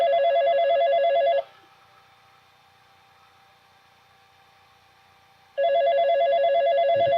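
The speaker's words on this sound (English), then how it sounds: "I'm sorry for the phone ringing" A telephone rings loudly in a woodworking shop: two long rings separated by a pause of about four seconds, with only a faint hum in between.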